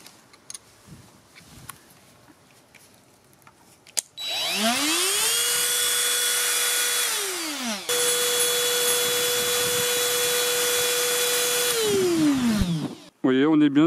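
A Parkside cordless trim router from Lidl, fitted with a 6.35 mm bit, spins up to about 30,000 rpm at no load, a loud high whine held steady, cut briefly, restarted, then winding down, after quiet handling noises.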